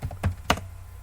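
Two separate keystrokes on a computer keyboard, sharp and close, typed while entering a command in a terminal, with a low hum underneath.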